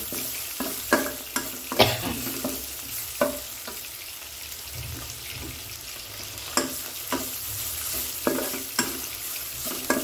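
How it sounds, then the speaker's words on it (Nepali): Spice masala frying in a pan hisses steadily while a spoon scrapes and taps against the metal in irregular bursts, close and fairly loud, with no one speaking. "यो मसलाको चाहिँ यसरी भुट्ने है।"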